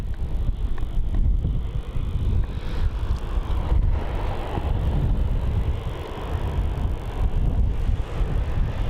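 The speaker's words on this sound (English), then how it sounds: "Now the wind's slowed down a little bit." Strong wind gusting at Melbourne Airport, a loud, continuous low rumble with buffeting on the microphone that stays steady throughout and only eases slightly, with no talk.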